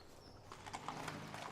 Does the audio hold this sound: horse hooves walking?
yes